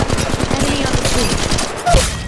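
Rapid automatic gunfire rattles loudly and continuously in a mobile battle royale shooter match, Apex Legends Mobile, with dense bursts and a brief higher tone near the end.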